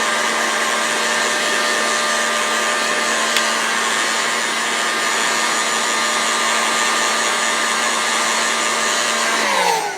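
A heat gun blows steadily and loudly for the whole stretch while warming an oiled aluminum bearing ring, with a constant whooshing roar that cuts off abruptly at the end.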